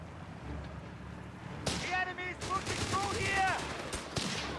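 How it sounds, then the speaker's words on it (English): A 6-pounder anti-tank gun fires in Company of Heroes 3, sharp broadband blasts standing out over dense battle noise and game effects, with a commentator's voice running underneath. "wrecking terrain here with the 6-pounder gun."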